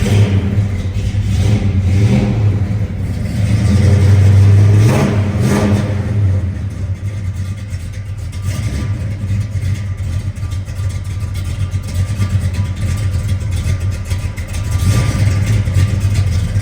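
1970 Chevrolet Chevelle V8 with a mild cam, revved repeatedly from a lumpy idle, loud and close, with the strongest blip swelling and falling back midway.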